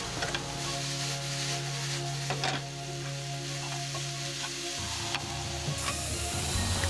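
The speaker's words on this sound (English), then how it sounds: "Add 1 tablespoon of soy sauce, 1 tablespoon of sweet chili sauce and 1 tablespoon of sweet soy sauce and mix through" A vegetable stir fry sizzles as soy sauce and sweet chili sauce are stirred through, a steady hiss with a low hum beneath and a few brief scraping strokes, no speech.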